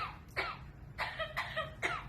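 A pet bird imitates a human cough on request, giving several short, raspy cough-like bursts separated by brief pauses, fairly faint and with no talking over them.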